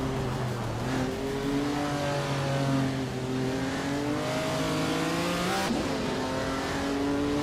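Several AI-driven race cars in a racing video game rev hard, their engine tones climbing and shifting in overlapping pitch sweeps, loud and continuous throughout with a brief squeal near the end.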